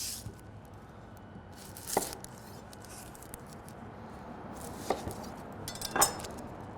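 An onion is chopped with a knife for salsa, giving a few sharp, separate cuts against a quiet background with soft handling noise between strokes.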